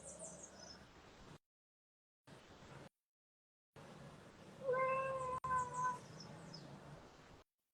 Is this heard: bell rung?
no